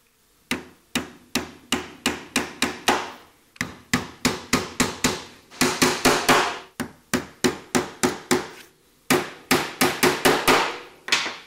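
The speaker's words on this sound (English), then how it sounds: "I haven't even got the claw hammer to drive a nail in with" A claw hammer drives nails into a wooden swarm box with sharp, ringing strikes in quick runs of several blows, pausing briefly between bursts, close and loud.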